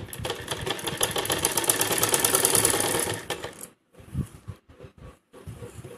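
A close, busy sewing machine runs for over three seconds, stitching the fitting seam of a half-inner fancy blouse, then stops, followed by soft bumps and handling of fabric.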